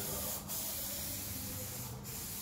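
A spray gun hisses steadily as vinyl paint goes onto the roof of a Ferrari 308 GTS during a paint restoration. The spray is close and continuous for the whole stretch, with no talking.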